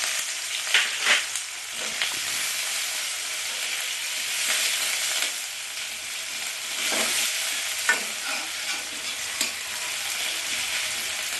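Chopped onions dropped into hot oil with spluttering cumin seeds, a loud bright sizzle with occasional stirring scrapes and crackles throughout.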